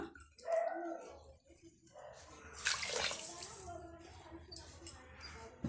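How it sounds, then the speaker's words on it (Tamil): Half a cup of water is poured onto sugar in a pan to make syrup for Tirupati laddu, a brief splashing pour with a voice murmuring underneath. "இப்போ நம்ம ஒரு அரை கப் அளவுக்கு தண்ணி ஆட் பண்ணிக்கலாம்."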